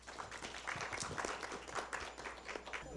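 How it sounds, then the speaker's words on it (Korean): At a Korean academic seminar on North Korea's nuclear program and the alliance, the audience gives a brief, quiet round of applause to welcome the next professor, soft clapping heard from some distance. "큰 박수로 환영해 주시기 바랍니다."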